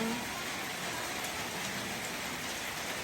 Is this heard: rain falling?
yes